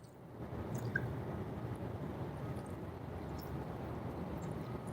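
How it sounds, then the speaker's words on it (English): Small waves lap against a river shoreline, a soft continuous wash with faint drips and splashes, calm and close, with no voices. "Waves hitting the shoreline."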